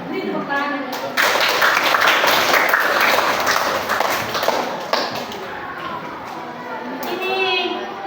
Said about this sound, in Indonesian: Kalian semua beri tepuk tangan.